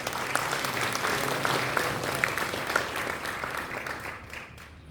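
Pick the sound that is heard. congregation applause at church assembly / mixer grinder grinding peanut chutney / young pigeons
congregation applause at church assembly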